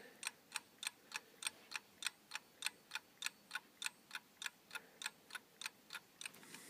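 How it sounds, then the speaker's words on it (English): A dial clock with a second hand ticking slowly and evenly, about three crisp ticks per second, close and quiet against a faint background hiss. "It has a second hand, which is cool, and has a slower tick sound."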